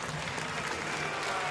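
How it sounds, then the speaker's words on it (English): A road crowd at a baseball stadium during a Reds vs Pirates game applauds in a dense, steady wash of clapping and crowd noise, with boos not clearly separable from the cheering. "a mixture of applause, a smattering of boos"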